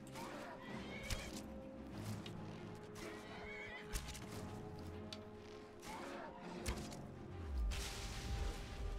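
In Skyrim, a horse whinnies several times over nine seconds amid clopping hooves, scattered impact thumps and swishes, all at moderate distance within a busy game soundscape.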